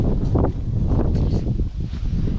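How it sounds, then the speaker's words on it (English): Steady wind buffets the microphone with a rough, continuous rumble and gusty surges throughout. "It's also very windy today."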